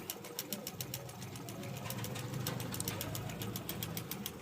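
An overlock sewing machine runs a three-thread stitch on stretchy jersey fabric, its fast, steady whirring rhythm continuous and fairly close throughout.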